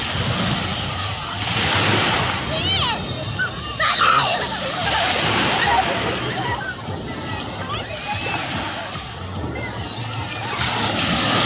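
Near a beach resort in Bolinao, Pangasinan, water sloshes and splashes steadily around someone wading through the shallows, with several soft surges under ongoing chatter from people nearby.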